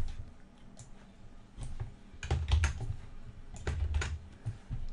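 Typing on a computer keyboard produces close, crisp key clicks in irregular clusters of a few strokes each, moderately loud, with no talk.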